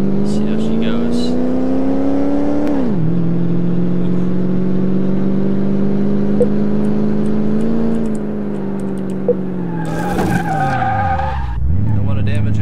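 An Impala's engine in Car Mechanic Simulator 2018 revs loud and rough, holding a droning pitch that dips and climbs between gear changes, with tire squeal near the end and someone talking over it.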